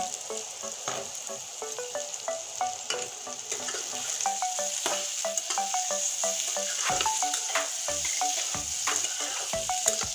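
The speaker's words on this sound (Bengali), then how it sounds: "পেঁয়াজের সঙ্গে আলুটা কষিয়ে নিচ্ছি" Potatoes and onions frying in a pan, with a continuous close sizzle and a busy run of quick scraping and clinking strokes from the spoon as the mixture is stirred.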